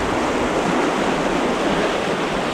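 A river wave at a higher water level, surfed by a canoe, gives a loud, continuous rushing roar of churning whitewater. It stays close and steady throughout with no voices.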